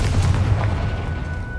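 A Confringo fire spell in Hogwarts Legacy detonates with a heavy, booming explosion, loud and close, its deep rumble rolling on and slowly fading over a second or so.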